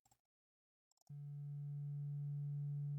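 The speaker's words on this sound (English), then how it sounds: "it would sound like a sine wave" A steady pure sine-wave tone switches on after a brief silence and a few faint clicks, then holds unbroken and clear at a single pitch until the end.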